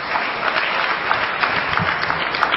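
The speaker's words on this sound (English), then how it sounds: "Give her a big round of applause." Dense, steady applause from a lecture audience greeting an honored guest, a continuous wash of many hands clapping at even loudness throughout, with no one speaking over it.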